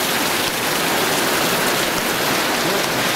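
Steady rain falls close by while sheltering under a canopy at a house beside a newly graded sand road, a dense continuous hiss without pause and with no voices.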